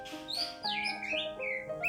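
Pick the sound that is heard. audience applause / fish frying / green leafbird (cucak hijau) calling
green leafbird (cucak hijau) calling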